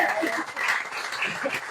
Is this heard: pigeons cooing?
no